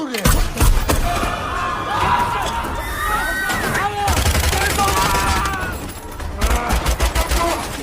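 Gunfire in an action film: a loud, dense barrage of gunshots and thuds layered over music, with heavier bursts near the start, around four seconds and again toward the end.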